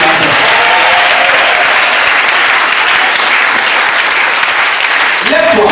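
A congregation claps and cheers at a church worship service, a dense, loud, steady wash of applause and acclaim that fills the whole stretch without letting up.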